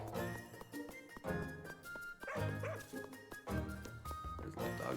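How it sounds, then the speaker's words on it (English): A small dog in the video game The Woodland gives repeated high yips and short barks, mixed with whimpering, over game music, with a person talking at the same time. "There's little doggy."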